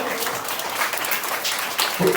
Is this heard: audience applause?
yes